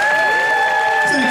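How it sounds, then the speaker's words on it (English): Audience applause rings out at the Wild Wild West Steampunk Convention fashion contest at Old Tucson Studios, a short, loud burst of clapping with a tonal whine over it. "Please give her a round of applause too."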